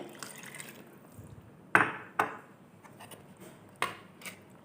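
Water is added to a pot of Thai green curry with sardines, giving a few distinct splashing pours and liquid sloshes with short pauses between them, close and moderately loud.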